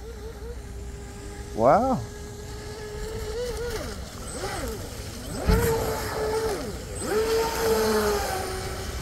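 An 18-inch Proboat Recoil 2 self-righting deep-V RC boat, fitted with a big aggressive-pitch propeller, takes off with rising, sweeping motor whines over water. A voice gives a short exclamation.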